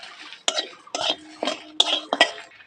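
Whole garam masala spices (cardamom, cinnamon, cloves, cumin and coriander) are stirred in a pan as they fry. About five sharp metallic scrapes and clatters come at a steady, uneven rhythm, close and fairly loud, with quiet gaps between them.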